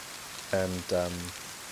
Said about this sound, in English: I'll wait for this rain to go off